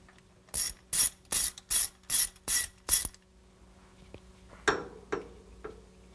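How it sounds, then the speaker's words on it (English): A hand ratchet loosens the carburetor mounting bolts on an engine intake manifold, sounding as seven quick, evenly spaced bursts of clicking, followed by a few fainter, scattered clicks and taps. "next we remove the mounting bolts"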